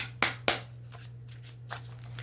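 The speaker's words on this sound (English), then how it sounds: "Actually, let's shuffle this a little bit more." Two sharp riffles of a tarot card deck snap close by, followed by softer flicks and shuffling of the cards.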